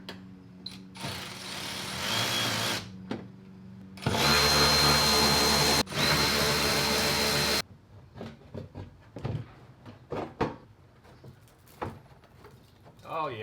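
A Milwaukee M12 Fuel cordless power ratchet removing spark plugs from a 2017 Chevrolet Silverado truck, whirring loudly in two sustained bursts of a few seconds each, with quieter clicks and handling noises around them.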